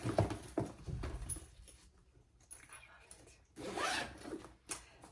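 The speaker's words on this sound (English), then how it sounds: "And then you have a zipper pocket." Zipper on the inside pocket of a handmade tote handbag, a few quick rasping pulls with fabric rustling and handling noise close by.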